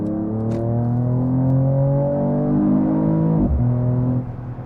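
A 435 hp Mercedes-AMG E53 Cabriolet's 6-cylinder engine pulls hard under acceleration, a loud, steady rising drone with climbing harmonics, a brief dip near a gear change, then resuming before easing off.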